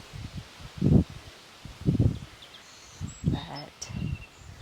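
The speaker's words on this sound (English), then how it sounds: "Oh, the wind's picking up." Wind gusts sweep through a Kentucky garden in several rhythmic surges, each rising into a soft rustling rush of leaves and buffeting, then easing off between gusts.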